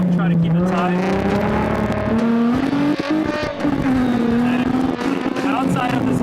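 A drift car slaloms through a tight course, its engine revving hard and wavering up and down in pitch as it weaves, loud and close with tire noise mixed in.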